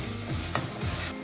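A pan of mutton gravy base sautés with a low, steady sizzle, broken by a couple of brief scraping stirs in a short stretch with no voices.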